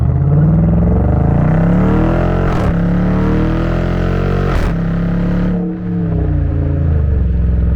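2022 Dodge Charger R/T accelerating hard from a standstill, its engine roaring loud and close as the pitch climbs through each gear, with two brief breaks at the shifts and the revs dropping near the end.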